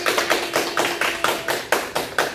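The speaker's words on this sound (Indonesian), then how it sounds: "berikan aplaus untuk kali ini" A small group claps at a classroom sociodrama, giving a short burst of about ten evenly spaced, crisp, close claps with no talking.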